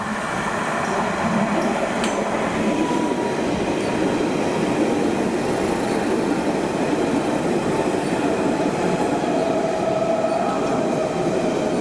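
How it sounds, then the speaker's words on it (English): An empty London Underground Central line train rumbles steadily past Roding Valley at close range without stopping, wheels clattering and faintly squealing, with a constant loud roar throughout and no voices. "this is an empty train"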